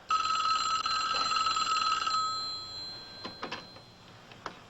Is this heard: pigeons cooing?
no